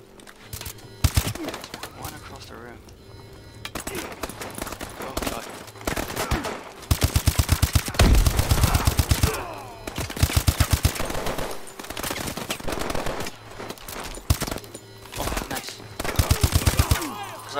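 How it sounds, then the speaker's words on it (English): Rapid automatic gunfire from Call of Duty: Advanced Warfare, loud bursts of machine-gun fire repeating through the clip with brief pauses, a futuristic shooter's combat din layered over constant background noise. "I keep shooting you for some reason."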